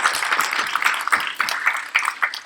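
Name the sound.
applause for the ICAR team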